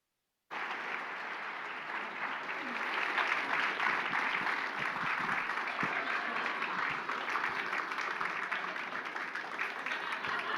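An audience applauds after a cosplay performance at a convention contest, sustained crowd clapping that starts suddenly and holds steady and fairly loud, without letting up.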